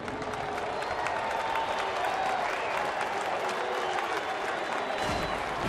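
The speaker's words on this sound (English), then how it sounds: "a nice round of applause for Joe Crede" Crowd applause at a Minnesota at Chicago baseball game in a stadium, a broad, steady wash of clapping with light cheering from a distant crowd, continuing evenly for several seconds.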